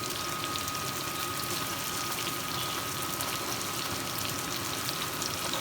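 Tomato mixture pouring into a frying pan over a cut meat kebab patty, a continuous hissing, watery sizzle with fine crackle, steady and fairly faint with no talking.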